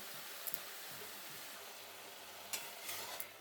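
Spinach with turmeric and salt is stirred in a pan, giving a soft, steady sizzle with a few sharp scrapes and clicks of the utensil against the pan, quiet and close.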